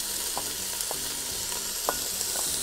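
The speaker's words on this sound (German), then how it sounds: "Und brate darin den Speck an." Bacon frying in sunflower oil in a Dutch oven: a steady, fairly loud hiss with light crackles and small pops through the whole stretch, and no voices.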